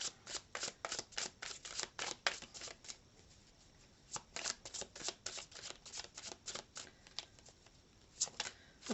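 Tarot cards shuffled by hand in quick riffling bursts with short pauses between them, soft and close, with no voices.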